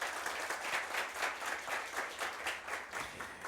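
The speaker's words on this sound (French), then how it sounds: "que je vous demande bien sûr d'applaudir très chaleureusement." Warm applause from an audience at a French contest event, many hands clapping together with a gently pulsing, rhythmic swell that rises and falls.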